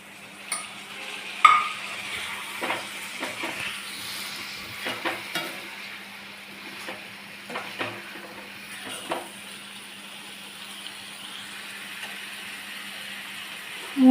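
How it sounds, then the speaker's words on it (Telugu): Mushrooms fry in a pan for a curry, a soft continuous sizzle broken by scattered scraping and clinking strokes as they are stirred, close and fairly quiet with no talking. "వాష్ చేసి పెట్టుకున్న పుట్టగొడుగులు వేసుకోవాలి."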